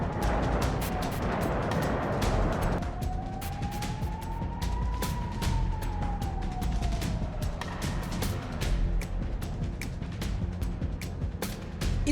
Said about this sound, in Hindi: आसमान में गूंजते सायरन, जमीन पर धमाकों से ब्रायंस्क दहल उठा।